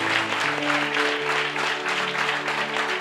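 A church congregation at a mid-year convention applauds steadily, dense clapping filling the hall for about three seconds while sustained organ or keyboard tones hold underneath.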